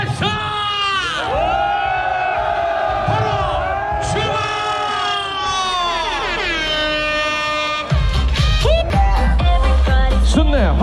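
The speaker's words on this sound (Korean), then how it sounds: "빅으로 함성 발사!" Spectators along the Chuncheon Marathon course shout and cheer loudly in sustained, pitched voices, joined near the end by a heavier burst of noise as the crowd swells.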